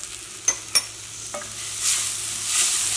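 Cooked quinoa is stirred in a pan with spices: a few sharp spoon taps and clinks at first, then a soft, rising hiss of gentle frying.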